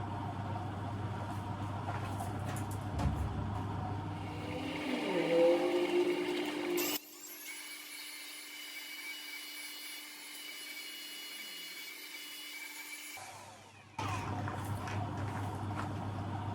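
A coral fossil ground on a machine fitted with a coarse 50 grit soft diamond pad: steady broadband grinding noise, then a smoother whining motor hum with a high tone for several seconds before the rougher grinding returns.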